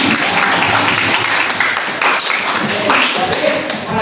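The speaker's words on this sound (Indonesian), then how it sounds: "Ya, tepuk tangan." A classroom full of people clapping steadily, dense and loud applause that carries on without a break.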